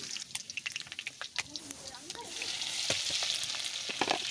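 A dried red chili and round-sliced onion rings fry in hot white oil as a tempering, with a crackling sizzle and bursts of spattering, punctuated by sharp clicks of stirring, close by, with a voice talking over it.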